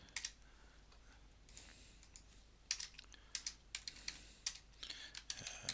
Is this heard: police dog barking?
no